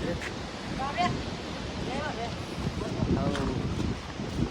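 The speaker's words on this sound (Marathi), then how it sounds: "हा मोठ्या साईजचा धबधबा आहे" A large waterfall at Thoseghar near Satara gives a steady, broad roar of rushing water mixed with wind buffeting the microphone, while faint voices come and go over it.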